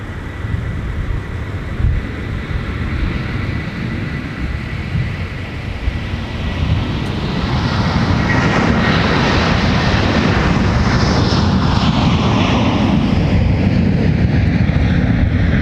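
A Delta heavy jet airliner bound for Honolulu takes off from runway 12 right at Minneapolis airport on a winter day, its engine roar building from a steady rumble into a loud, sustained, broad thunder.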